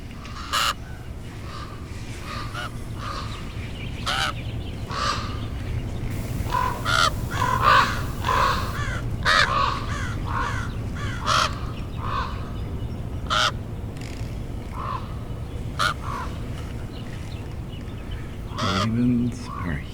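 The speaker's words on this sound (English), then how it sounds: "Ravens are huge birds." Crows and ravens caw outdoors in Halifax, a series of harsh calls repeating at irregular intervals over steady background noise, some loud and near, others fainter.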